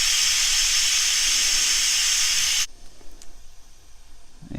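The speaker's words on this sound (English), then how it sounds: "There she blows. Look at all that steam." Steam blasts loudly from the exhaust of a rice cooker pressure pot cooking onions and cabbage, a steady roaring hiss that cuts off abruptly, leaving quieter faint room noise.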